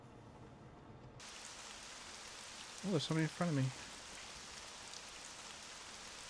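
Steady, loud rain hisses throughout a flight in the combat flight simulator IL-2 Sturmovik: 1946, starting abruptly and continuing without a break while someone speaks briefly over it.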